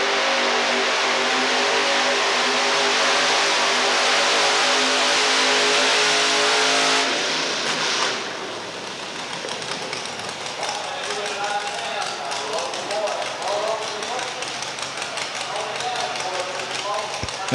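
A Gamble Chevrolet pulling truck at a 1987 outlaws modified four-wheel-drive truck pull in Murray, Kentucky, its engine screaming at full sustained revs, then dropping off into rough, rumbling idle and crackle, loud and close.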